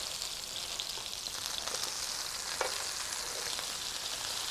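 Ground beef burgers frying in a pan make a steady hiss and sizzle, with faint scraping and tapping as spatulas flip them, fairly quiet and continuous.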